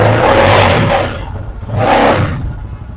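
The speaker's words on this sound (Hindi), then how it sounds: "इसका जो एग्जॉस्ट का साउंड है ना काफी पावरफुल इसका साउंड है" A 300cc motorcycle engine and exhaust at a Dehradun used-bike market revs loudly and powerfully, two strong bursts rising and falling with a roaring exhaust note, no talking.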